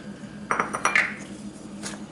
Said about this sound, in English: Just gonna make sure you mix all the dry ingredients first.